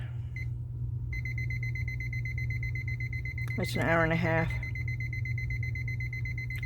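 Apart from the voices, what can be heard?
electronic beeping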